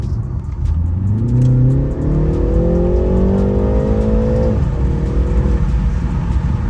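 A BMW accelerates at part throttle, the engine note climbing smoothly through a single gear for several seconds before easing off, loud and close with steady road and wind noise underneath.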